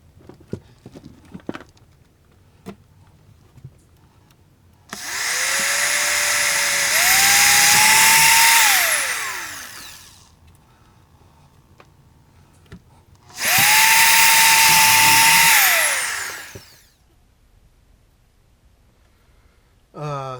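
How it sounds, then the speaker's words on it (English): A power drill boring out a hole during a 12-volt lighter socket install, heard as two loud sustained whirring runs up close, each rising in pitch as it spins up, with a short quiet gap and some handling clicks around them. "I drill this out."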